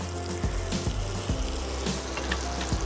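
Kasuri methi sautéing in melted butter while making paneer butter masala, a steady low sizzle and bubbling with a few soft clinks of a utensil, close and continuous, no talking.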